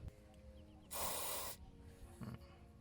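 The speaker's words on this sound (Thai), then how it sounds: "แล้วหลังจากนั้นเราก็จะทำการฉีดเจ้าตัวสเปรย์น้ำยานะครับทำความสะอาดเข้าไป" Cleaner sprayed from an aerosol can onto the airflow sensor of a Toyota Sportcruiser, a single loud hissing burst lasting about half a second, then a brief faint second puff over a quiet background.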